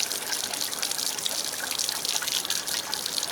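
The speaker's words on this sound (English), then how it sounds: "See how fast it's dripping right there?" Water leaks from a cracked old hose on an outboard motor, a steady close trickle and patter that goes on without a break, with no voices.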